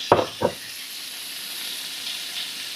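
Liver and heart frying in a pan give off a steady, close sizzle with a soft hiss, opened by two brief louder stirring or spattering bursts at the start.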